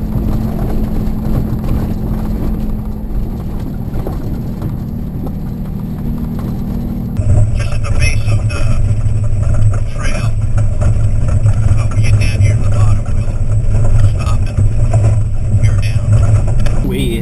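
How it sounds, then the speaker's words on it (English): Car engine and road rumble heard from inside a vehicle climbing Carrizo Mountain, a steady drone that gets louder and rougher partway through, as if onto a bumpier track. "driving up to the top of Carrizo Mountain"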